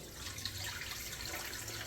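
Water being poured into a blender with Roma tomatoes and half an onion for chile relleno tomato sauce, a faint, steady trickling splash.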